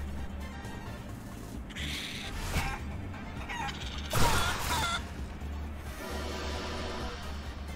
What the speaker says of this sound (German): Da läuft noch ein Huhn.